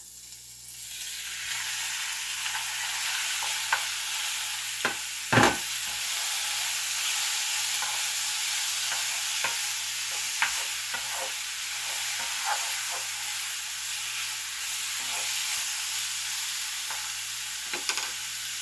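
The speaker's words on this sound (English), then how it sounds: "going to get my beef frying" Sliced beef steak sizzles and hisses steadily in a hot pan, with occasional scraping and stirring clatters over the frying.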